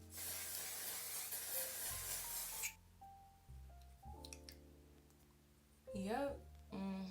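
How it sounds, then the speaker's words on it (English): A steady aerosol hiss of One Size On Till Dawn makeup setting spray for a few seconds, close by, followed by quieter tonal sounds and a voice. "Lastly, I'm going in with my One Size On Till Dawn setting spray"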